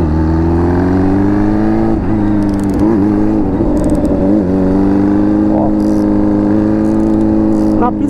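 A CG motorcycle fitted with a Honda Hornet engine and a 2-into-1 exhaust, with an open sensor hole in the pipe, drones loudly and steadily close by with small throttle changes, while someone talks over it.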